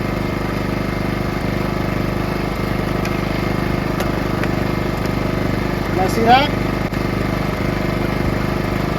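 A PowerSmart portable generator powering a light runs with a steady, even engine drone throughout, close by and constant, while someone talks over it.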